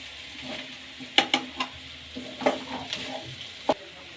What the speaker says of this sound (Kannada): ಈಗ ಖಾರ ಪುಡಿ ಸೇರಿಸ್ಕೊಳ್ಳೋಣ. ಚೆನ್ನಾಗಿ ಮಿಕ್ಸ್ ಮಾಡೋಣ. ಎಣ್ಣೆಲೆ ಫ್ರೈ ಆಗಲಿ ಫಸ್ಟು.